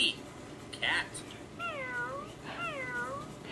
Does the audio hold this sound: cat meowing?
yes